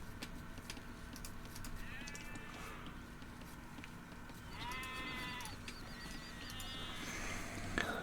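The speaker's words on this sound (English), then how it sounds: "He has a sheep out here." Sheep bleating in the real-time strategy game Age of Empires II, a few short wavering bleats at moderate distance over a steady low background hum, with no talk.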